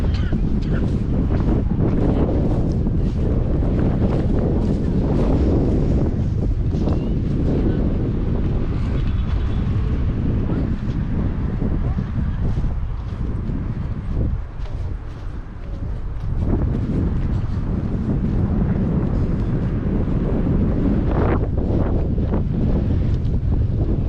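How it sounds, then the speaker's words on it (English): Strong wind buffets the microphone on a walk through a park in San Francisco's Marina district, a loud continuous roar with gusty swells and a brief lull midway. "It'll be windy until we get out of this park"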